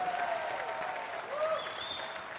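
Audience applause fills the hall after a motivational speech, a steady wash of clapping at moderate loudness with faint whistling tones drifting over it.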